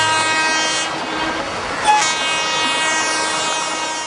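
A train passes along railway tracks in Chinchwad, sounding a loud, sustained horn over steady rolling rumble, close and continuous throughout.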